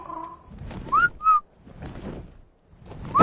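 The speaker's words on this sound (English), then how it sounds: "Yeah, just keep whistling all DW." Player whistling in an island survival video game, two or three short rising whistle notes separated by soft noisy rustles, fairly clear and close, with no speech.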